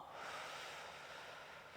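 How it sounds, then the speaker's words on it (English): A long, steady exhale during a yoga cat-cow stretch, soft and breathy, continuing for the whole moment without any speech. "Exhale."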